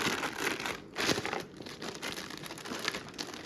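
A plastic wrapping around a protective case for a Wacaco Pixapresso crinkles and rustles steadily up close during an unboxing, with a few sharper crackles and no talking.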